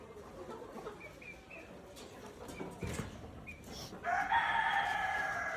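A rooster crows among chickens on a farm; the bird was brought in from Andhra Pradesh. A faint call comes midway over low background noise, then a louder drawn-out crow rises near the end.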